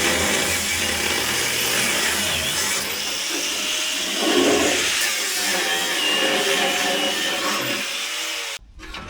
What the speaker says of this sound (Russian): Берем болгарку и начинаем пилить.